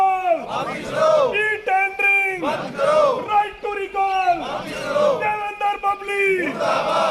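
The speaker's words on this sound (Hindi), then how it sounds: "देखिए, सरपंच एकता जिंदाबाद के लगते नारे" Protesting sarpanches at a sit-in chant slogans in unison, loud and close, repeated call-and-response phrases in a steady rhythm with several shouted voices rising and falling together.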